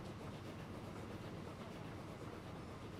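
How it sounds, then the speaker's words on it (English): Steam locomotive in the video game Transport Fever 2, a steady continuous rumbling roll of the train running along the track, even and unbroken throughout with no distinct whistle or chuffs standing out. "Where's my little train fella? Here he is. Little steam engine that could."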